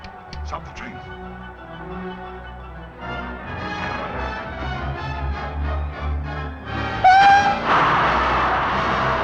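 A train rumbles along with a rising clatter of wagons, and a sharp whistle blast sounds near the end, as voices speak over the noise in a 1930s thriller scene.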